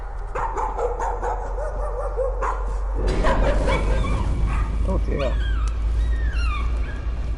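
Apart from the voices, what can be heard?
dog barking and whimpering in video game Layers of Fear 2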